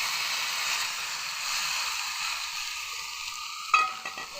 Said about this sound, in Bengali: মশলা দিয়ে এবার একটু নাড়াচাড়া করে নেব